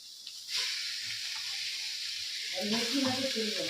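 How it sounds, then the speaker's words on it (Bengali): Fish-oil chochchori with panch phoron, onion and chilli frying in a wok, a steady close sizzle and hiss that rises as spattering grows louder toward the end. "আর এখানে আমি এখন মাছের তেল চচ্চড়িটা বসাবো কড়ার মধ্যে আমি পাঁচ ফোড়ন পেঁয়াজ লঙ্কা দিয়ে দিয়েছি"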